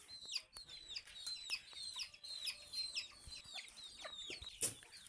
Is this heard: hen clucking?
yes